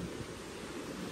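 Fast-flowing water in a mountain nala beside the old Indo-Tibet Road rushes as a steady, moderately faint broadband hiss, continuous and even with no voices.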